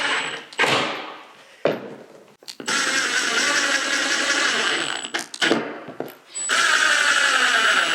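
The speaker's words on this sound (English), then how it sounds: "drilled the shank width so that my screw will slide right in there" Power drill boring a screw shank hole into a wooden outer keel of a rowing and sailing dinghy, several bursts of loud whirring with short pauses between them, no talking.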